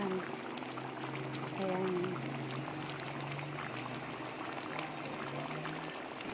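Beef caldereta stew with potatoes and carrots boils in a pot, a continuous bubbling simmer with a low rumble and occasional liquid gurgles, while a person briefly speaks over it.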